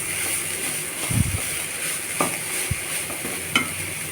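Grated carrot for halwa frying in ghee while being stirred: a continuous close sizzle broken by a few distinct scrapes and knocks of a spoon against the pan.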